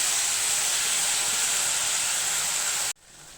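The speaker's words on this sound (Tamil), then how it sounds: "இப்போ இந்த தக்காளி வந்து நல்லா மசிஞ்சு குழஞ்சி போகணும் அது வரைக்கும் நம்ம நல்லா வதக்கிக்கலாம்" Tomatoes sautéing in a pan for a tomato-onion chutney give a steady, bright hiss that stays even for about three seconds, then cuts off abruptly to a much quieter tail.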